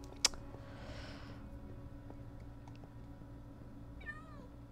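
A short cat meow sounds near the end, a faint rising-and-falling cry from a Minecraft modpack game, preceded by a single sharp click and a soft hiss over a quiet low hum.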